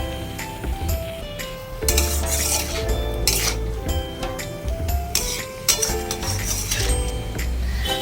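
A utensil stirs jujube (kul) and tomato chutney in a pan, producing repeated metallic clinks and scrapes against the pan over a faint sizzle, with background music throughout.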